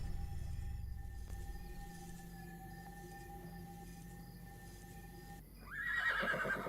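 A horse in the video game Horse Valley whinnies sharply at the end as a dreamcatcher draws out its soul, following a quiet stretch of low droning tones and a soft rumble at the start.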